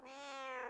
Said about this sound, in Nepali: यो बिरालो पनि एकदम मान्छे जस्तै छ